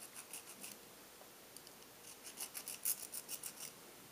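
A modified three-edged acupuncture needle is filed down by hand, producing faint, close, short rasping strokes that quicken into a run of rhythmic scrapes near the end.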